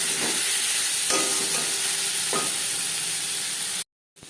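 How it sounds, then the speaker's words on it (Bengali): Eggplant fries in oil in a pan, a steady close sizzle broken by a few scraping stirs, ending in a sudden cut to silence. "পনেরো কুড়ি সেকেন্ড ভেজে নেওয়ার পর দিয়ে দেবো বেগুন"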